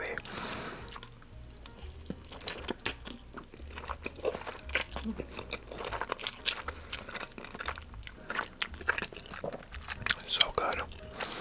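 Close chewing and biting of spicy cheesy Samyang instant noodles eaten by hand, wet smacking and crunchy bites repeating irregularly throughout, loud and near, with faint soft sounds between bites.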